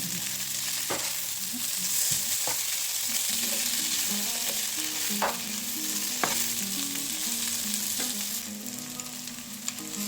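Zucchini frying in a pan while being stirred, a steady soft sizzle broken by scraping, clicking spatula strokes at irregular intervals, no voices.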